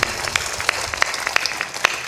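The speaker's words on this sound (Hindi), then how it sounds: "थोड़ा ताली जोर से बजाया करो" Audience applause at a live satsang gathering in Salempur, Bhagalpur, Bihar: a steady wash of clapping with sharper individual claps standing out, moderately loud and continuous, with no talking over it.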